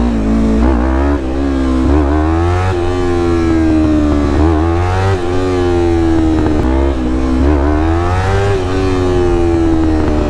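A loud, close Yamaha R3 motorcycle engine revs hard continuously while wheelieing, pitch climbing and dropping repeatedly as it accelerates, with no voices.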